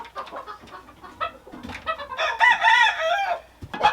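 A rooster on a farm crows loudly and close by, a long strained cock-a-doodle-doo rising in the middle, with clucking from other fowl around it.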